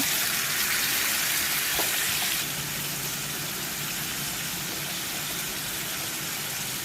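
Prawns frying in a pan with potatoes and tomatoes make a loud, hissing sizzle close up, which drops to a quieter, steady crackle after a couple of seconds.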